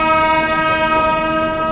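A passing train at an Indian railway station on the route toward Durgapur sounds a loud, sustained horn with steady rumbling underneath, close and continuous throughout.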